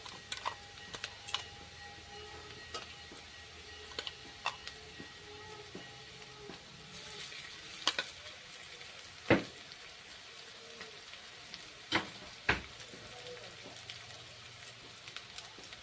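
Ground ginger, garlic, tomato and green chilli paste sizzles softly in a pan with fried onions for a pumpkin chhokka, with a steady low hiss and occasional sharp clicks of a spoon.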